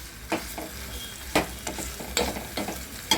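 A masala of coconut, cumin and coriander is fried and stirred in a pan for an aloo chana masala, with a low sizzle and several sharp scraping stirs at irregular intervals.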